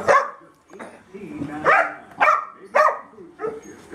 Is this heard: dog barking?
yes